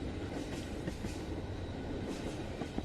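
A train in the desert horror game Sands rolls steadily along the rails, a continuous close rumble with faint clickety-clack pulses and no voices over it.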